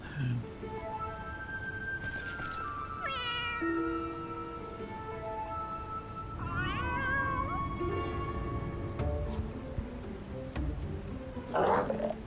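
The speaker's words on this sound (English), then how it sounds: "Okay, but why is the cat still here?" A cat meows repeatedly in Final Fantasy XIV, several drawn-out, rising cries spread over a steady rain-like background, fairly close and clear.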